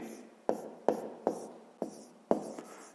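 A solution to a fifth-grade maths exercise written by hand, with five evenly spaced pen or chalk strokes, each a short scratchy tap fading quickly, close and fairly quiet.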